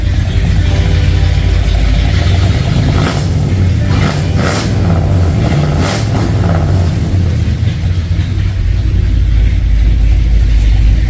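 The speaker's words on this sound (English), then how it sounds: "Whole truck sounds pretty good." A 1967 Ford F250 Highboy truck engine fitted with a new Edelbrock carburetor runs steadily and loud up close, a constant low rumble with a few brief throttle blips partway through.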